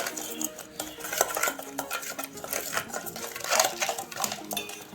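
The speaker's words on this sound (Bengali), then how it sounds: "সবটা চামচ দিয়ে একটু ভালো মতো করে মিক্স করে নিচ্ছি।" A spoon stirs a paneer spice mixture with Kashmiri red chilli powder in a metal bowl, giving continuous close scraping and rapid clinking of metal on metal.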